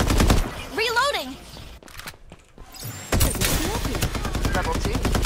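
Uzi fire in the video game Farlight 84: rapid automatic bursts rattle loudly at close range, broken by a short quiet gap before firing resumes, with game voices and effects mixed in.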